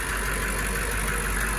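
The 600-horsepower engine of a 2020 BMW M5 runs with the hood open, a steady, close, moderately loud idle hum, heard alone without speech.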